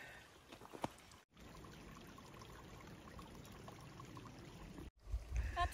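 Water flowing in a small mountain stream along the Tahoe Rim Trail, a steady trickling and pouring rush heard up close, with brief handling noises at the start and end.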